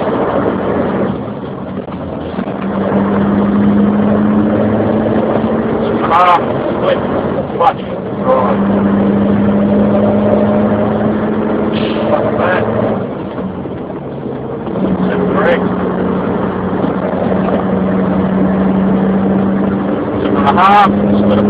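A truck engine with an Eaton Fuller Roadranger gearbox drones steadily as gears are split, its pitch dropping and rising with each shift and easing during brief lulls, while someone talks throughout.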